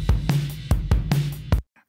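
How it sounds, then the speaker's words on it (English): Drum kit bus with heavy parallel compression through a Klanghelm MJUC Junior compressor: five loud, evenly spaced kick-and-snare hits with a pumping, sustained body between them, played alone and cutting off abruptly at the end. "then the parallel compression sounds like this"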